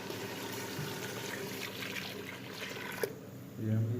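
Water pours steadily from a jug into a pot of mutton kunna gosht, a soft continuous splashing, ending with a brief clink and a low thud.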